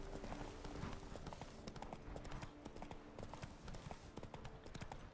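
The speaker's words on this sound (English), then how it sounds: "Oh, horses." Horse hooves clip-clop steadily in the video game The Witcher 3, a continuous rhythmic trot at moderate distance with faint background ambience.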